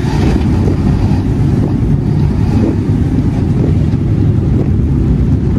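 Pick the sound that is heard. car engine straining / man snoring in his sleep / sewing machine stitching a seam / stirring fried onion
car engine straining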